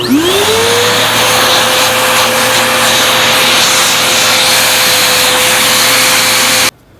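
A vacuum cleaner fitted with a mini blind hose attachment starts up, its whine rising quickly to a loud, steady roar of suction that holds for several seconds before cutting off abruptly.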